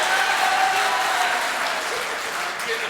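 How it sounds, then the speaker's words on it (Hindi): Dense, steady crowd applause fills a hall at an All India Mushaira poetry gathering, sustained and loud for the whole stretch without letting up. "जरा तालियां बजाइए ताकि उनका मूड बन जाए"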